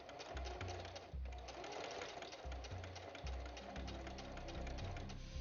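A sewing machine runs in fast, rhythmic bursts while stitching binding onto a quilt, close and steady with a brief pause, and no one speaks.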